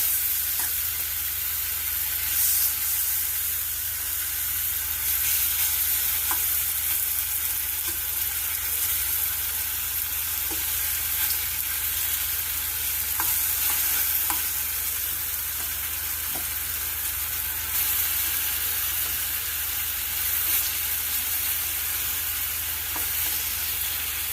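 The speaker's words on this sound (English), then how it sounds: "we are gonna fry the ripe banana just like how we fry our plantains" Ripe banana frying in just a little oil in a pot, an even, continuous hiss and sizzle heard up close for the whole stretch, with faint stirring scrapes now and then and no one speaking.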